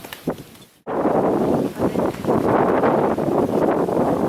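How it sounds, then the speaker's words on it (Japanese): Strong gusting wind from an approaching typhoon buffets the microphone outdoors at a fireworks festival, a loud continuous roar that surges after a brief lull. "このようにものすごい風が吹いており"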